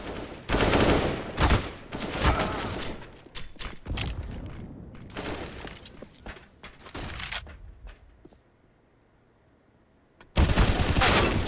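Rapid gunfire bursts in a Counter-Strike esports match, loud dense volleys and single shots crowding the first eight seconds, a near-silent gap, then a sudden loud burst resumes at the end.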